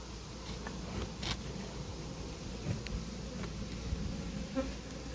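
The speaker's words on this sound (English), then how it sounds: "there's quite a few bees up there" Honeybees drone and buzz steadily at a smoked hive in an apiary, a dense close hum with a few louder individual bees passing near.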